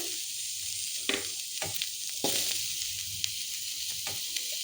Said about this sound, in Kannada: ಇದಕ್ಕೇ ಈರುಳ್ಳಿ ಮತ್ತು ಶುಂಠಿ ಬೆಳ್ಳುಳ್ಳಿನ ಹಾಕಿ ಹಸಿ ವಾಸನೆ ಹೋಗೋವರೆಗೂ ಬಾಡಿಸ್ಕೊಬೇಕು